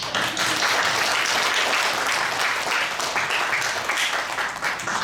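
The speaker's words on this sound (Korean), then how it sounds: "그렇게 박수하시자." An audience applauds at a ceremony launching a commentary on the Book of Amos, producing dense, sustained clapping that stays full and even from start to finish.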